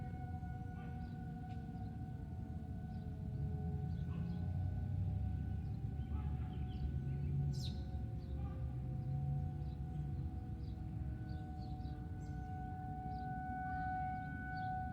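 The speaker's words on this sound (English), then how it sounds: "City and park siren." Distant outdoor tornado civil defense sirens, a city and park siren system in Grosse Pointe, Michigan, being tested, hold steady sustained tones faintly over a low rumbling background for the whole stretch, with no one talking.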